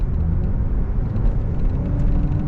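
A Kia car with a turbo problem and a P2562 fault code, heard from inside on a test drive; its engine and road noise form a loud, steady low rumble throughout.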